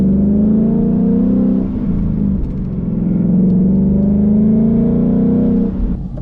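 A ProCharged supercharged Ford Mustang engine drones loudly while driving, a sustained heavy rumble whose pitch sags briefly and then climbs again, heard from inside the car with no talk.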